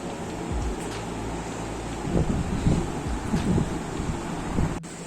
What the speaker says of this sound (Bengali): বৃষ্টি হচ্ছে, এখন বিকেল 5:30 বাজে। কিছুক্ষণ আগে ঝড়ের মতো হলো, আর হালকা ঝড়ের মতো হলো, আর হাওয়া দিচ্ছে প্রচণ্ড